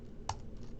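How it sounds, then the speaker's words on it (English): A few quiet keystrokes tap on a computer keyboard, with a couple of distinct clicks over a faint room hum. "So let's type in, oh, let's misspell prisoner."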